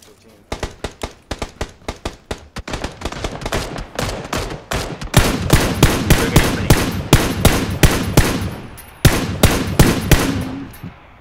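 Rapid bursts of video game rifle fire, an SKS among the weapons, crack out in fast repeated volleys of sharp loud shots, some in quick strings and others spaced, with voices faintly underneath.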